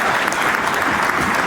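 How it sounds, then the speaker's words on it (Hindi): Applause as Nitish Kumar rises and claps for Samrat Chaudhary before a gathering, a dense, continuous wash of many hands clapping at once, fairly loud and close throughout. "नीतीश कुमार ने सबके सामने उठकर उनके लिए तालियां बजाई।"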